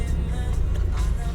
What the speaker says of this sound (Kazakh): пробка болып жатыр кептеліс